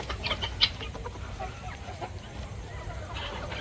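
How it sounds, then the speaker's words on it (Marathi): Pure desi village chickens cluck in a farm field strewn with paddy straw, short clucks and calls scattered over steady rustling background noise at moderate distance. "प्युअर गावठी कोंबडी आहेत."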